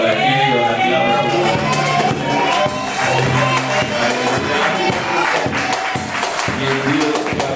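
A church congregation applauds and cheers to welcome a returning member, steady loud clapping and crowd voices throughout, with music and a voice underneath.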